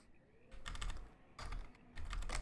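Computer keyboard keys clatter in three quick bursts separated by short pauses while someone plays a colony-building PC game. The typing is close and fairly quiet, with no voices.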